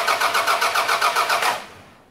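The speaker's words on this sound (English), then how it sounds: "Okay, so crank the engine." A car engine cranks on its starter motor during a starter circuit voltage-drop test, a steady rhythmic whirring chug of about eight even pulses that stops short without the engine catching, close and loud.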